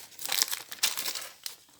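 Paper leaflet from a LEGO Disney Minifigures Series 2 (71024) box being handled, giving close crinkling and rustling bursts in uneven bunches with short pauses between.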